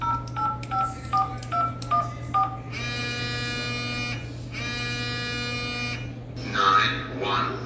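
A phone keypad is tapped out for a 911 call, giving a quick run of short, evenly spaced touch-tone beeps followed by two long buzzing ring tones, all heard close up over a steady low hum.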